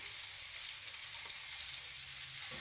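Onions frying in a pan after peppers, giving a steady, close, continuous sizzle with broadband crackle and no voices throughout.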